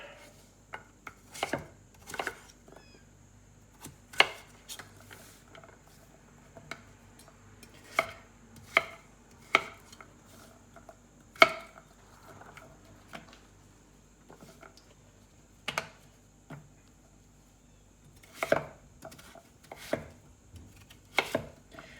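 A knife slices through butternut squash into chunks on a cutting board, giving irregular sharp chops spaced a second or so apart, close and clear with a quiet background and no voices.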